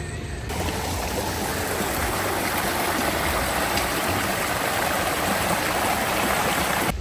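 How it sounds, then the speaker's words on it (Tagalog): A small creek in a wooded valley flows with a steady, broadband rushing and trickling wash, continuous and fairly close throughout, no talking. "may parang sapa dyan"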